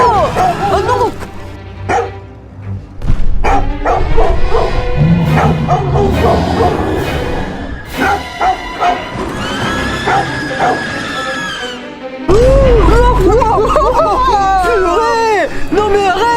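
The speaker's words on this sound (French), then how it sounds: "Le chien est littéralement en train de s'attaquer au toboggan mangeur." Dog barking and yipping in a children's horror-style playground video game as it attacks a monster slide, with loud game music and effects and excited voices throughout.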